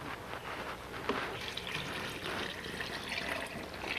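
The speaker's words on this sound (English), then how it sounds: "you're just going to pour it in to your onions" A soup mixture seasoned with nutmeg is poured into a pot of onions, giving a soft, steady liquid trickle and splashing that stays faint and even throughout.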